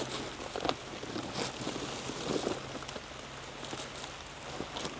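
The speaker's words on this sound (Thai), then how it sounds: "ในขณะที่ถ่ายทำอยู่ก็ฝนเริ่มตกมา" Light rain begins to fall outdoors during a sun shower, a soft steady patter of drops with scattered louder taps over a low constant hum.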